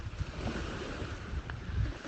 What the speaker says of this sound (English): you may be able to hear the waves here, especially now the boat's gone past